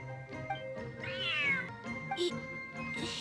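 A cat in the video game Genshin Impact meows several times, clear and close, with a long rising-and-falling meow in the middle and shorter mews around it, over soft background music.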